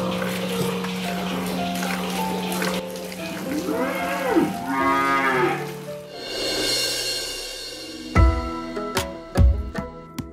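Dairy cows low inside a cowshed on a Nepali livestock farm, several drawn-out moos at close range, followed by sharp knocks and clanks of shed work.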